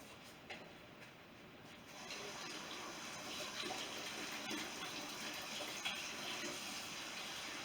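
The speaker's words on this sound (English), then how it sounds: "I'm going to rinse the meat off of my hands" Tap water runs steadily into a sink as meat is rinsed off hands, a soft continuous rushing stream that grows slightly fuller after a couple of seconds, faint and unaccompanied by speech.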